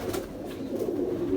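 A racing homing pigeon from a champion bloodline coos softly and continuously at close range, a low murmuring burble with no voices over it.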